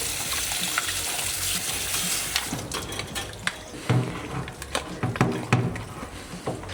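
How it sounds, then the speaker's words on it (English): A mud crab is rinsed under running water from a tap, with a steady splashing flow broken by irregular clatters and splashes as the shell is handled, close by. "Now what you want to do is rinse off the crab."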